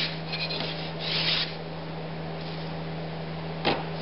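A hand block plane, an old yard-sale tool with a freshly sharpened blade, rasps across wood to take light shavings, a few soft strokes over a steady low hum, then a sharper single pass near the end.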